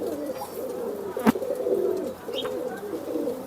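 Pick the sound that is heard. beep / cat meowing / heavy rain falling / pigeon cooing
pigeon cooing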